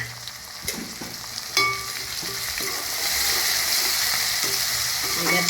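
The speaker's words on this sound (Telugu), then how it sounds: "ఇగో టమాటా ముక్కలు వేస్తాను" Tomato pieces drop into a pan of frying onions and ginger paste for a village-style goat blood curry, setting off a louder crackling sizzle after a few taps and scrapes of a stirring spoon.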